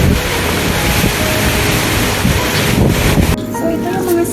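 Strong typhoon wind batters a rooftop garden, a loud, gusting roar buffeting the microphone that eases abruptly near the end.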